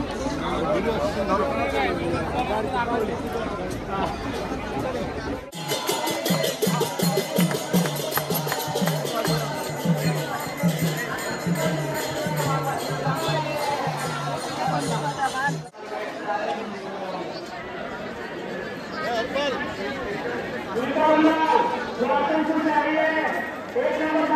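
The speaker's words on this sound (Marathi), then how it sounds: "फुल गर्दी आहे सगळी." Dense crowd at the Ganga ghats in Varanasi: steady, busy babble of many voices and footsteps, with a sudden shift to louder, closer chatter midway, continuous throughout.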